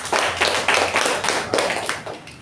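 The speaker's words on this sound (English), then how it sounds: "Let's give her a round of applause." A small audience at a Toastmasters meeting gives a round of applause, a short burst of clapping with uneven bursts of hand claps, fairly close and moderately loud.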